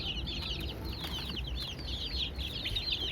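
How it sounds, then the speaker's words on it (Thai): A group of fighting-cock breed chickens on a farm cluck and chirp continuously and close by, in quick overlapping calls, with no talking. "เป็นสายพันธุ์ไก่ชนนะกลุ่มนี้"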